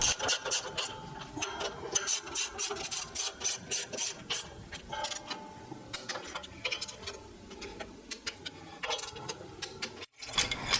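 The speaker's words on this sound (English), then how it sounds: "we can torque the ring gear bolts down to the manufacturer's torque specifications" Ring gear bolts on a Ford 9 inch third member being torqued down with a ratchet wrench, close rapid clicking in repeated bursts with metallic rasping, a brief pause near the end, no talk.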